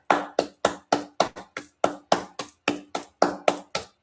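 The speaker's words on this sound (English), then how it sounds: "I'm clapping for us" Hands clap in a steady rhythm, about fourteen sharp, close claps in quick succession with no talking.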